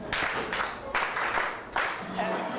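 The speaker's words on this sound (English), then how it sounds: "Clap for him." A classroom of students claps for a classmate, the scattered hand claps coming in three short bursts, each rising suddenly and then fading, with a few voices mixed in.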